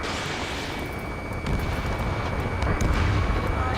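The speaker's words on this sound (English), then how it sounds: "Gunfire and the roar of jets echoing through the streets" Continuous rumbling roar of jets with distant booming gunfire, building slightly louder midway through, from a war scene in the game Ace Combat 7: Skies Unknown.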